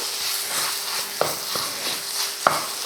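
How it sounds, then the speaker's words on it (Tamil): A ground chicken mixture with salt being stirred in a bowl, soft scraping and squelching with a sharp utensil clink at two points, close and steady, over a faint background hiss. "தேவையான உப்பு சேர்த்துட்டு இப்போ நல்லா இதை கலந்து விட்டுருவோம்"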